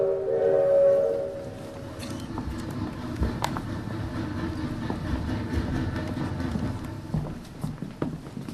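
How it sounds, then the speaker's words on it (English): In a high school stage play, a train sound rumbles along steadily with rhythmic clatter and metallic clanks, a brief whistle-like tone near the start, no talking. "Orphan train arrives in Iowa."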